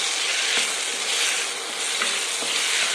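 Steady, close sizzling of food frying in ghee for jackfruit payasa, with faint periodic scrapes of stirring running through the loud, continuous hiss; no voices.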